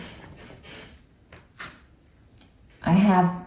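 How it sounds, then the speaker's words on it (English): A door creaks and knocks a few times as a cat plays with it, with brief scrapes, then a louder squeaky rattle near the end, close by. "My cat's playing with the door. If you hear some squeaking."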